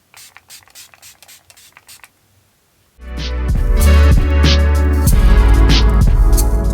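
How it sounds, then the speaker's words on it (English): Face mist spray pumped in a few quick, faint bursts at close range, followed by silence and then loud, full music. "I think it is just nice to finish off with a little bit of face mist to just lighten it up a bit"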